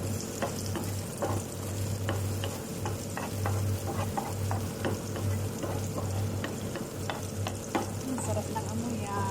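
Garlic sizzles in butter in a pan, a steady close crackle with frequent small pops and occasional stirring taps, continuous throughout with no talking.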